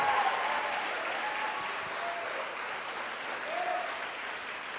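Congregation in a church service applauding, a steady, broad wash of clapping and crowd noise held at an even level for several seconds, with no clear voice on top.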